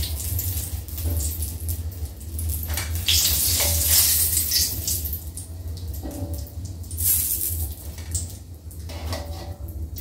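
Oil overheated to the point of scorching keeps frying in a pan, a loud, continuous sizzling hiss that swells and eases with occasional stirring scrapes, close up and steady throughout.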